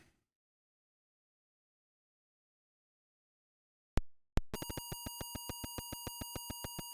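Sharp electronic beeps from the Atari 800 game All These Follies start abruptly after a stretch of silence, then settle into a quick, steady run of clean, evenly spaced pulses.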